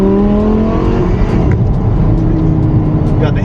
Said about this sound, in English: It wasn't revving that much that time.